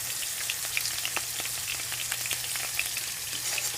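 Steak sears in a hot pan with a steady, close sizzle and scattered crackling pops, continuous throughout with no voices.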